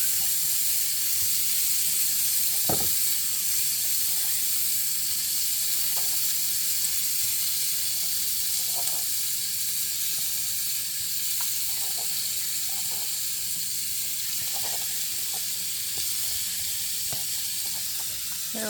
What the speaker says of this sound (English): Go ahead and pop my bacon in there.